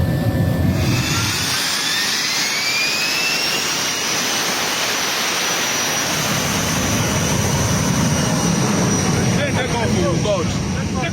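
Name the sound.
airplane taking off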